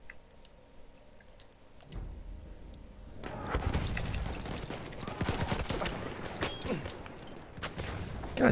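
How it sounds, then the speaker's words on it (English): Rapid gunfire from a firefight in the video game Battlefield 1, starting faint and swelling into a dense, loud barrage of overlapping shots and thuds after a few seconds, sustained to the end. "I'm in all-out firefight."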